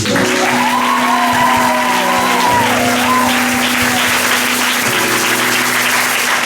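A church congregation applauding, dense sustained clapping from a large crowd filling the room, loud and continuous, with a tonal hum or music lingering underneath.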